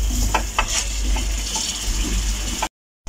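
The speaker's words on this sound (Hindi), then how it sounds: "मसाले की अच्छे से भुनाई कर लेते हैं ताकि इसका कच्चा पान खत्म हो जाए" Spice masala stir-roasted in a pan for vada pav, with a continuous close sizzle and scraping, clicking stirring strokes, cut off by a brief silence near the end.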